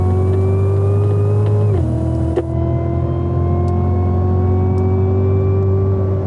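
A 2016 Cadillac CTS-V accelerating hard on a race track at Circuit of the Americas, its engine a loud, steady, close drone that drops briefly at a gear shift and then keeps pulling strongly.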